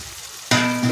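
Oil in a pan for an onion curry bursts into a loud, crackling sizzle halfway through, following a quiet moment of low background noise, and the frying stays bright and steady to the end.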